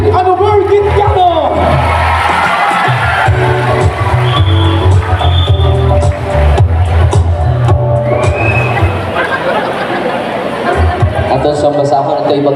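A Catholic diocesan convention audience in Talibon, Bohol, gives a priest loud, sustained applause mixed with cheering and whoops, a dense crowd roar with voices rising through it.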